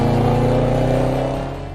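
A 2018 Range Rover Sport SVR's supercharged 5-litre petrol V8 revs hard and loud, a steady rich harmonic roar held close by for under two seconds before easing slightly.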